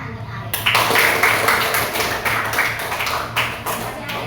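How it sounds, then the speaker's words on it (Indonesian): Applause from a classroom audience after a student named Arif finishes a robot-control demonstration, a burst of steady clapping starting abruptly and continuing throughout, fairly close. "Tepuk tangan untuk Arif"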